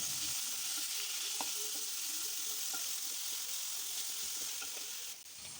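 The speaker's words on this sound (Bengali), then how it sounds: "দেখো এবার দিয়ে দেবো চপ করে রাখা টমেটো কুচিগুলো।" Chopped tomatoes hit hot oil in a pan while cooking fish-head moong dal, giving a continuous close hiss of sizzling with a few faint clicks of stirring.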